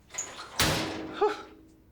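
An oven door swings shut with a single firm thud after a rustic sourdough loaf is slid back in, followed by a brief rattle as it settles in a quiet kitchen.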